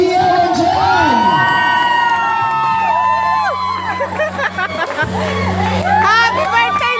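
A lively crowd at a birthday celebration cheers and shouts, children's high voices whooping and yelling together, loud and close, with a sustained tone briefly sounding beneath the clamor.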